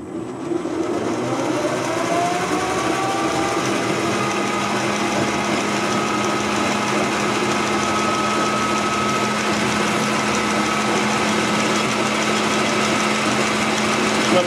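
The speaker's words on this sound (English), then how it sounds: "I'll speed the lathe up and I'll do another pass on the same setting" A metal lathe sped up for a screw-cutting finishing pass gives a steady, continuous motor and spindle drone, even and unbroken throughout, with a faint high whine appearing partway through and no talking.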